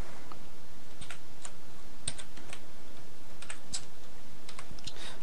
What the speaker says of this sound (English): I'm using a new keyboard here